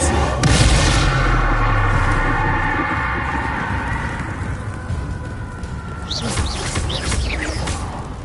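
Bombarda spell blast in Hogwarts Legacy, a heavy booming explosion up front that rolls into a long rumbling tail, followed by crackling debris and chirpy effects near the end, loud and close.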